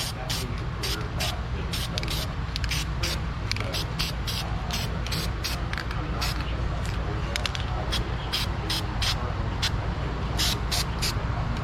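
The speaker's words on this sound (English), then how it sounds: "put some protectant spray on here" Short hissing bursts of an aerosol protectant spray on a Toyota Camry with a no-crank, no-start fault repeat in quick succession over a steady low background hum.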